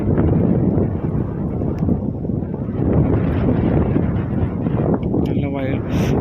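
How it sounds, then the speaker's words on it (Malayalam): Strong wind roars and buffets continuously against the microphone in a dense, gusty rush. A voice is briefly audible near the end. "ഭയങ്കര കാറ്റാണ് തള്ളുന്ന കാറ്റ്"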